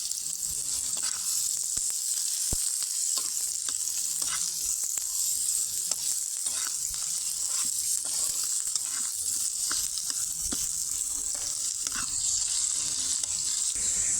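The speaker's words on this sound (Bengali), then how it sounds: "এখন দিয়ে দিচ্ছি পেঁয়াজ কুচি, রসুন কুচি দিয়ে ভালো করে পেঁয়াজ আর রসুনটা ভেজে নিব" Chopped onion and garlic fry in hot oil in a wok for a tomato chutney, giving a steady, close sizzle that runs throughout with occasional stirring clicks and scrapes.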